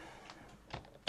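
A few sparse keystrokes on a computer keyboard while a terminal command is typed on an ArcoLinux system: quiet, isolated taps with a slightly sharper final press, with no talking.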